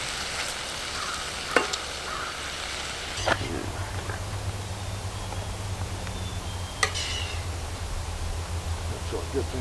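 Bacon and beans sizzle in a pan at a campsite, with a steady low crackling hiss throughout, a few sharp clinks from utensils or the pan, and quiet background activity.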